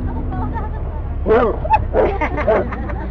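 A few sharp dog barks and yips come in quick succession near the middle, over a murmur of background voices and low ambient noise.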